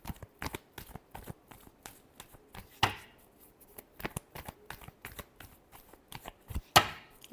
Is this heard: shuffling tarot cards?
yes